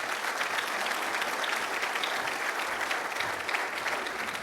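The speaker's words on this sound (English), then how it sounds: "And let's give her a round of applause." A crowd at an organisational update event gives steady, even applause, a continuous wash of clapping from many hands at moderate volume throughout.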